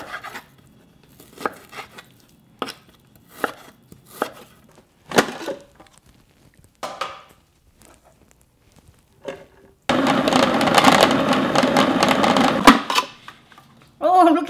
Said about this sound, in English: And then I will just use my food processor.